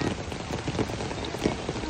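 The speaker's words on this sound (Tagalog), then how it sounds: "Umuulan po." Rain falls steadily at night in Baguio City, a dense continuous hiss of drops striking surfaces close by, with no voices.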